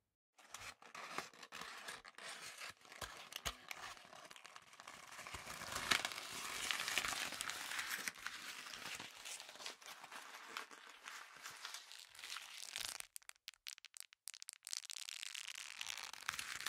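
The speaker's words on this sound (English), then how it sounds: "Next is some stiff paper scrunched up and released next to each ear." Stiff paper is scrunched up and released close to the ears in a binaural recording, a dense crackling and crinkling that swells, thins out, then returns in sparse crisp snaps.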